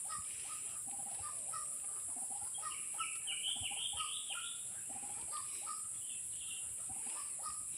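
A white-breasted waterhen (ruak-ruak bird) gives repeated clucking, squawking calls close by after rain, the notes coming in quick bursts over a steady high insect-like hiss.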